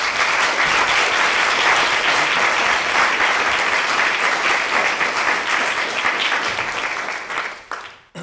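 A lecture audience applauds warmly to welcome artist Anthony McCall, with steady, dense clapping that fills the room for about seven seconds before tapering off abruptly.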